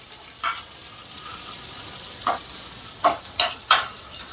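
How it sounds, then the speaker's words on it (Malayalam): Onion, ginger and garlic sautéing in a pan, with a faint steady sizzle underneath and several short, bright scraping or stirring bursts near the end. "ഒരു സൈഡിലായിട്ട് നമുക്ക് ഇഞ്ചിയും വെളുത്തുള്ളിയും കൂടിയിട്ട് ചേർത്ത് കൊടുത്തിട്ട് ഒന്ന് മൂപ്പിച്ചെടുക്കാം"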